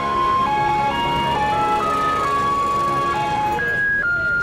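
Afghan ice cream vendor music on a street in Kabul, a loud electronic jingle playing a bright, looping melody of sustained tones shifting in pitch, continuous and close, with faint street noise beneath.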